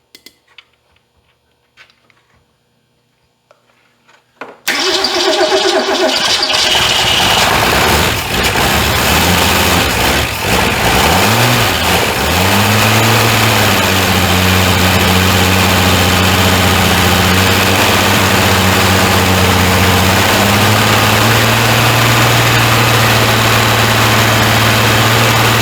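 A long-dormant Ford Fairmont with a rebuilt engine, idle for 35 years, comes to life after near silence: a sudden loud start that settles into a steady, rumbling idle with a low hum, close and unbroken.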